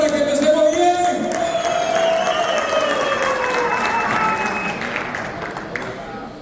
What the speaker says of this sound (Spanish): Un fuerte aplauso y una bulla para que empecemos bien.